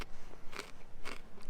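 Crunchy ketchup-flavoured potato chips are bitten and chewed close up, with a few sharp crackling crunches in quick succession and no talking.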